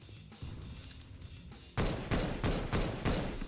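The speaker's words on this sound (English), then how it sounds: "You shot me in the back." Loud video game gunfire hammers out in a rapid series of heavy bursts, with a quieter spell of rumbling background action before it and no voices.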